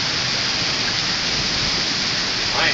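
Rain and hail fall hard outdoors, a loud, steady broadband hiss and patter that does not break across the whole stretch, with no voices over it.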